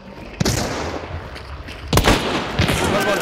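Gunfire from a shooter video game comes in loud, sharp bursts of shots, one early and a heavier cluster later, over a dense, noisy game soundscape.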